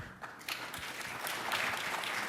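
Audience applause at a panel discussion on auto and tech in Michigan's economy, a steady crowd clapping that swells slightly louder toward the end, with no talk over it.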